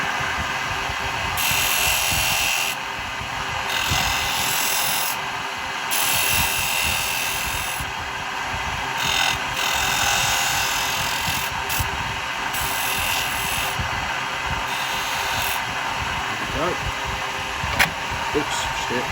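A spindle gouge cutting a spinning wooden Christmas cracker on a lathe gives a steady whirring, scraping drone that runs continuously and fairly loud, with small bursts and a sharp tick near the end.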